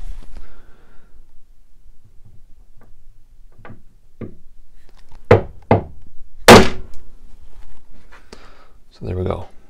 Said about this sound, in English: all I'm going to do is just split that block with a chisel